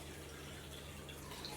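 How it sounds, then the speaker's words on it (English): A glass of water poured out indoors in a quiet, steady stream, a soft continuous splashing trickle heard up close with no voices. "Let's pour all the water inside this."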